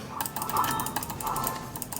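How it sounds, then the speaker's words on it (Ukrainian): Rapid computer mouse clicks during a slime simulator game, a steady run of small sharp taps at close range with no talking. "Ви напевно навіть чуєте мої кліки."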